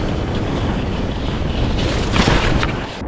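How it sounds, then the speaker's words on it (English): Strong wind blowing in extreme cold and snow near Kilpisjärvi, a loud continuous roaring rush of wind buffeting the microphone, with no voices. "The wind is picking up, and trust me, it's so cold here."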